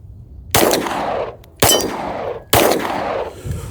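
Glock pistol with cheap aftermarket magazines firing three loud, sharp shots about a second apart, each followed by a ringing outdoor decay.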